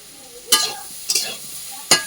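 Fish curry with koi fish and plantain being stirred and sautéed in a pan, giving three distinct scraping stirs with soft sizzling between them, close and without talk.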